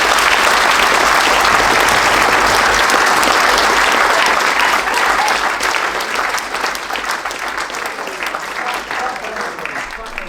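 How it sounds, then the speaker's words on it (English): A room of mourners at a eulogy gathering breaks into loud, sustained applause that stays dense and steady before easing slightly toward the end. "A huge round of applause to them."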